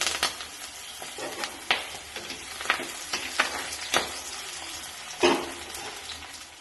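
Crushed shallots and curry leaves fry in hot oil in a pan for a Kerala mango and fish curry, a steady close sizzle broken by irregular clinks and scrapes of stirring, with no talking.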